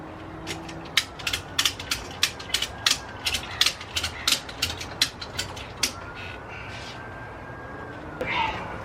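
Ratchet tie-down strap being cranked tight on a Harbor Freight motorcycle carrier holding a Sur Ron Light Bee on a Rav4 Prime, a fast series of sharp, evenly spaced clicks up close, then a brief rustle.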